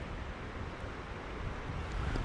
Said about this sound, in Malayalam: നല്ല കാറ്റാട്ടോ, നല്ല കാറ്റ് വീശുന്നുണ്ട്.